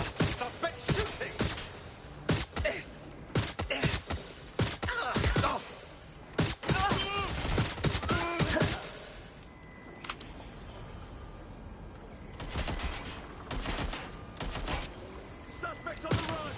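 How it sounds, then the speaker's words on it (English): Gunfire rings out in the video game Watch Dogs Legion as a string of sharp, loud cracks and rapid bursts, with game voices and radio chatter mixed in before the shooting fades to quieter ambience. "Suspect shooting!"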